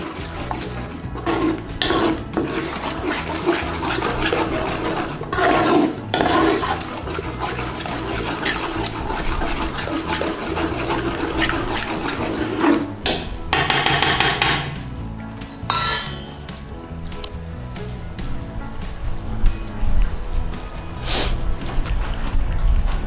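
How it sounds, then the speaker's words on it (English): A spoon stirring and squashing Chinese takeaway curry paste against the side of a pan: repeated scraping knocks and wet squelches in an uneven rhythm, close and moderately loud, with no voices. "Squash it against the side with your spoon, and then give it a good stirring in."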